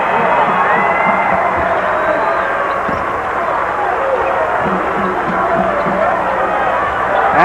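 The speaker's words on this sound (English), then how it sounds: "the crowd is back in it." A basketball arena crowd at an Illinois State versus Indiana State college game roars in a steady, dense wall of cheering and noise with a play-by-play commentator talking over it throughout.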